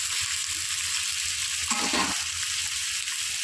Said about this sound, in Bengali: এবার এটা একটু আস্তে আস্তে ভাজা ভাজা হবে।